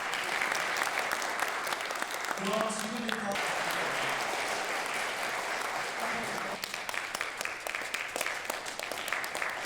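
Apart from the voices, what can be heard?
audience applause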